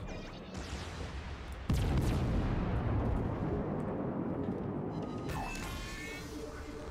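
Heavy booming explosions from torpedo hits on warships in World of Warships, a loud sudden blast followed by a long rumbling roar, with a later crackling burst; voices talk underneath.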